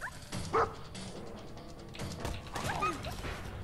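A dog in the Fallout 4 video game barks a few times, short sharp yips amid game effects and clatter, fairly quiet in the mix.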